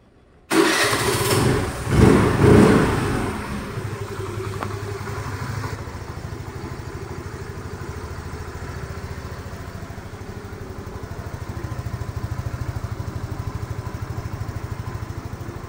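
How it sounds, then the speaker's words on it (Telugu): A Hero Destini 125 scooter engine cranks and catches with a short loud burst, then settles into a steady, quiet, even idle that runs close by for the rest of the clip, with no talking. "ఇంజిన్ కూడా చూడండి ఎంత నైస్, ఎంత సైలెంట్గా ఉందని తెలుస్తుంది."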